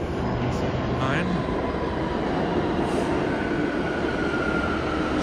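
A New York subway train at Chambers Street station, part of the Brooklyn Bridge–City Hall complex, gives a loud, continuous rumbling roar at close range throughout, with a faint squeal partway through.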